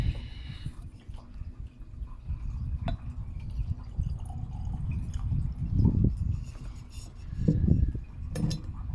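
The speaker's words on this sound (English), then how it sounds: "pour myself a little dram here" Auchentoshan 12-year-old whisky poured into a glass in an outdoor hot tub, with a soft trickle and a few light splashes over a steady low rumble of water and air.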